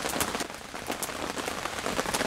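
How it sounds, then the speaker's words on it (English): Steady rain patters on a surface at Pymatuning State Park, Ohio, a dense continuous hiss of drops with occasional sharper taps, close and moderately loud, with no voices. "We're like the only one getting rain right now."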